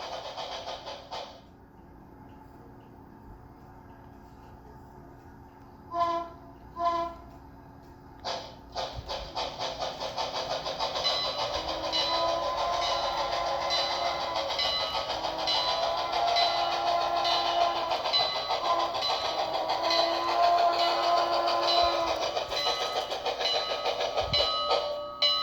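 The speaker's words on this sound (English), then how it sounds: "I'm going to practice a grade crossing sequence just so you can hear that" A Bachmann HO scale 2-8-4 Berkshire model locomotive sounds a grade crossing horn sequence: two short blasts, a brief one, then a long sustained whistle over steady chuffing and hiss, fairly quiet and close.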